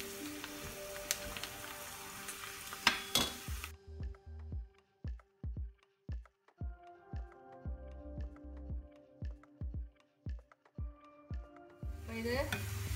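Onions deep-fry in oil until brown for sweet chilli chicken, a crackling sizzle at the start and end framing a run of about a dozen evenly spaced scraping, tapping strokes, fairly quiet and close.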